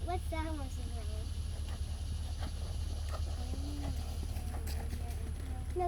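Horses trot around a riding arena during a practice session, hooves clip-clopping in a steady rhythm beneath ongoing chatter from nearby voices and a constant low background hum.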